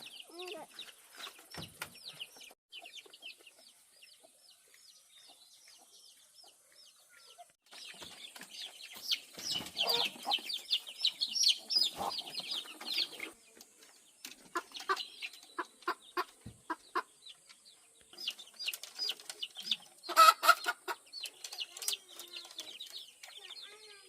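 Chickens on a Vietnamese farm cluck and chatter in bursts, several birds close by, busier and louder in the second half, with a brief flutter of wings.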